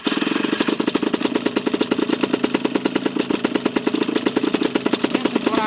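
A paramotor engine runs at full throttle, a loud, rapid, rattling two-stroke roar with dense pulsing that holds steady close by, with no talk.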